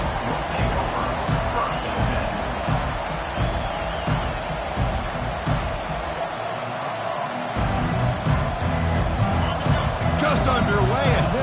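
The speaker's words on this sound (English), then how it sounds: "this home crowd is fired up and ready to make a difference today" A large home crowd at an OSU versus Georgia college football game gives a broad, sustained roar of cheering and crowd noise, with a commentator talking over it for most of the clip.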